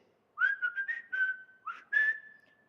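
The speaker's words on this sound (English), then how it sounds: "Dad walked into the house with a whistle" A bright, tuneful whistle plays a short, lilting run of notes, then holds a long sustained tone, close and clear with no other sound.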